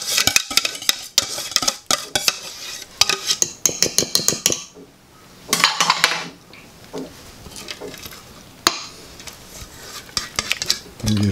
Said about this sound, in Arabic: نخلطوا هذا الشيء ديالنا، نخلطوا غير هكا خفيف